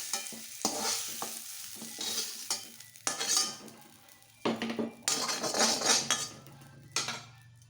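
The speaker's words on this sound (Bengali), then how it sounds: "এই দেখো কাঁঠালও আমার একটু লাল করে ভেজে নিয়েছি, এখন আমি তুলে নেব।" Fried jackfruit pieces being stirred and lifted out of a pan for a vegan jackfruit curry, with bursts of metal spatula scraping and clinking against the pan over a soft frying sizzle, in uneven separate strokes.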